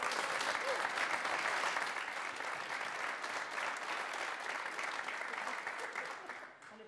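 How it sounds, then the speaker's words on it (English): A large audience claps steadily, dense applause holding strong throughout before easing off slightly at the end. "So ladies and gentlemen, let's have a round of applause."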